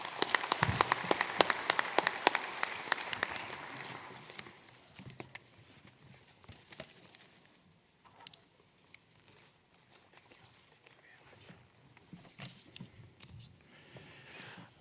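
Applause rings out at the official opening of the RUFORUM 18th Annual General Meeting, first a dense burst of clapping that then thins into scattered, fading claps over a quiet hall.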